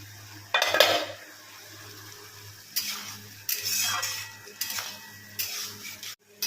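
Metal utensils scraping and clanking in a pan as water and fish-roe fritters go into a potato curry, several separate bursts of clatter over a low steady hum.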